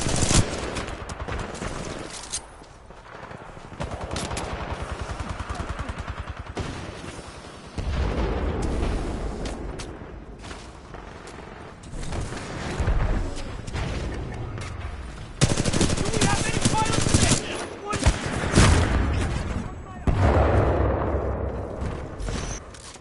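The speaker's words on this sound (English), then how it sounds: "Keep firing!" Gunfire in the video game Titanfall 2 runs as dense bursts of rapid shots, with explosions and loud booming blasts rising and falling over a sustained firefight.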